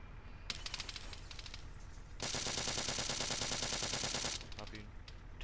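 Gunshots fired at a fleeing suspect in a video game, starting as scattered quick shots and building into a long, sustained automatic burst before trailing off into a few more pops, all fairly faint.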